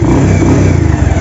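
A motorcycle engine revs loudly and steadily up close, a dense continuous roar that holds level through the short moment as the bike pulls away.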